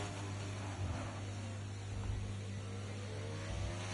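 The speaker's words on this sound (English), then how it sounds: "2 McLarens are out on track." Two McLaren race cars running on track in a racing video game at the Singapore circuit, a steady low engine drone with a constant pitch and slight surges, continuous throughout.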